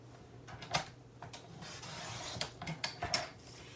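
White cardstock being cut on a paper trimmer, with faint rasping blade strokes and a few sharper snips, close by and quiet, with no one talking.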